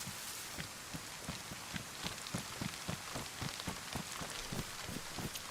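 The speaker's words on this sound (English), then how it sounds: "I really want it to stop raining, though. As much as it is nice to listen to" Rain falls steadily in the survival game DayZ as a soft, even patter. A faint rhythmic thudding runs beneath it, like footsteps moving through the wet.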